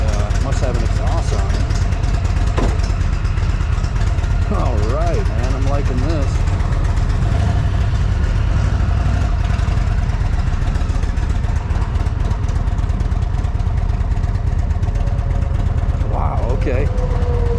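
An Indian Springfield Darkhorse 116 motorcycle idles steadily with a constant low engine and exhaust rumble, close by, while someone talks over it throughout.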